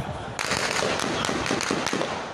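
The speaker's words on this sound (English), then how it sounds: "Dusk fell to the sound of live gunfire" A rapid string of sharp live gunshots cracks out at dusk as security forces arrive, several irregular bangs over a few seconds amid noisy background commotion.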